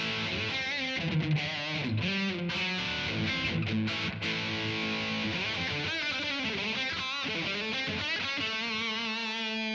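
Electric guitar through a Blackstar Amped 3 with super overdrive engaged, sustained chords and bends ringing with a thick, gritty, saturated tone, loud and continuous.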